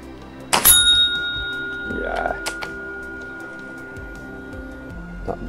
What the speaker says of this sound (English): bell is ringing out loud and clear, even all the way up here at the garden.